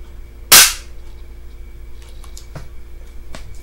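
A single sharp shot from a P226-style air pistol fired indoors, loud and close, followed by a few faint clicks and handling ticks.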